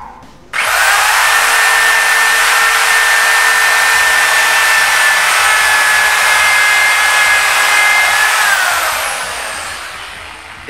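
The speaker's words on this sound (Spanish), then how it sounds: "Vayamos a hacer el primer taladro." A power drill bores a dowel hole through a wooden board held in a JOINTCRAFTER doweling jig, a loud steady whine running unbroken for about eight seconds before winding down.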